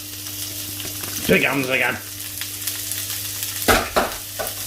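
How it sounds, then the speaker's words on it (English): Red onions going into a red wine stock pot, a low sizzle with a brief louder burst of stirring and scraping, close up, with a short spoken remark over it. "So it's time to go in with our red onions"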